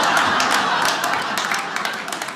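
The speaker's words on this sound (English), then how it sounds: "Applaud if you're a twin here." A small cluster of people in a comedy show audience clap briefly, a scattered, close burst of applause that thins out toward the end.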